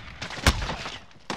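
Gunfire in Call of Duty: Modern Warfare, a few quick close shots with one loud sharp crack in the middle and another burst at the end.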